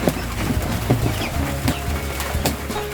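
Native chickens clucking and calling around a farmyard, with scattered short clucks and a few louder squawks over a busy, steady background, moderately close and without talk.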